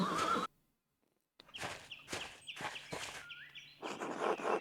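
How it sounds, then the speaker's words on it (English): Horses in the medieval game Pentiment neigh loudly and whinny, then hooves clip-clop in a steady walking rhythm, with a further whinny near the end. "Maclaus, tend to the horses and the baggage"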